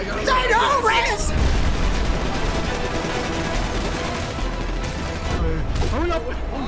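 Sustained covering gunfire rattles in a dense, loud stream in a video game alien invasion battle, under excited shouting from several players.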